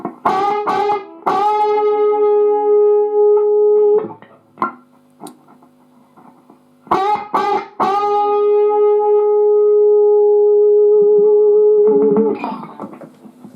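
A distorted electric guitar plays quick choked bends that stop just short of the target note, then a held bend rings out long and sustained; the pattern repeats twice, close and loud, ending with a short scratchy noise.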